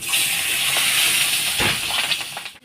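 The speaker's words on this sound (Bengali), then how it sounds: "মাছগুলো হেভি ফুটছে জানো না প্রচণ্ড ফুটছে" Fish frying in hot oil in a home kitchen, a steady loud sizzling hiss with faint crackles throughout, cutting off abruptly at the end.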